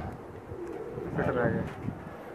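A Pakistani pigeon gives a soft cooing call at the middle of a short stretch, set against background noise, and a person talks around it.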